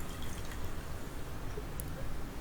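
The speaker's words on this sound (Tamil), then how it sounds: "இப்போ இதுலேயே அரை கப் தண்ணி சேர்க்குறேன்." Half a cup of water poured into sugar in a pan for syrup, a soft continuous splashing and dripping heard close up over a steady background hiss.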